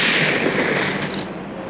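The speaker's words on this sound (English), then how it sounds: "I'll have a go with my heavy artillery, the 44 Magnum" A single heavy gunshot from a .44 Magnum revolver, a loud close blast whose dense burst decays over a second and a half without any talk.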